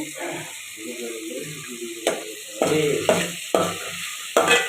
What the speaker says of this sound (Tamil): மஞ்சத்தூள் போட்டு நல்லா வதக்கி நல்லா வதங்கினதுக்கப்புறம்